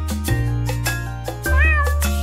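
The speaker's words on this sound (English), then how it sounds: "The cat on the fence says meow, meow, meow." Cartoon cat meowing repeatedly in a children's farm-animal song, with sung melody and music carrying the clear, close meows over a steady backing.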